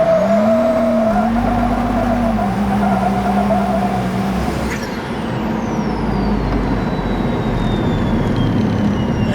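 A Nissan Patrol Y60 with a swapped BMW M57 diesel engine and 8HP gearbox drives off-road in fourth gear, a loud close engine drone holding steady then shifting pitch as the wheels keep spinning.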